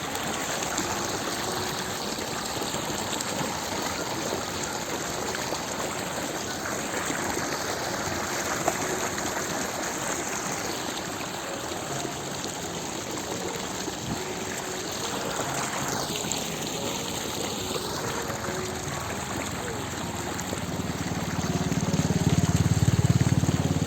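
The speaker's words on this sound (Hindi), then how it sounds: "इसे हम झाल बोलते हैं और ये बाग के पास में ही है।" Water pours steadily over a small village weir near an orchard, a constant broad rushing roar that stays loud and close throughout with no talk.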